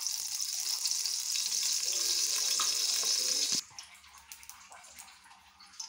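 Oil pours into a hot pan for pea curry with a steady bright hiss for about three and a half seconds, then cuts off to a quieter background of faint crackles and clinks.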